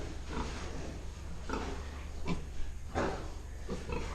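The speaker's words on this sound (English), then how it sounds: "And we got the little pigs over here." Piglets in a farm pen grunt and oink in short irregular bursts, several close snorts over a steady low background hum, with no talking.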